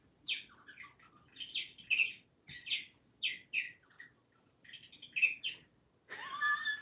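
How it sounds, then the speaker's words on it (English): A bird clock chimes on the hour, playing a series of recorded birdsong calls, short repeated chirps and whistles in bursts, fairly faint and close, ending in a different, busier bird call. "That was my bird clock going off."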